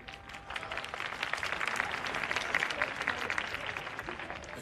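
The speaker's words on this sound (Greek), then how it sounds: "Γι' αυτό χειροκροτήσανε." A comedy show audience applauds, with sustained, dense clapping from a large crowd filling the room at steady volume throughout.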